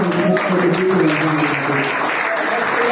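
Congregation applauding during a Sunday church service: loud, continuous crowd clapping fills the whole moment, with voices rising over it.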